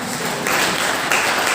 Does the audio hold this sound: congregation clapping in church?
yes